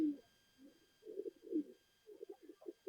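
A female pigeon coos softly and close by in several short, low, throaty bursts separated by brief pauses, with an otherwise quiet background.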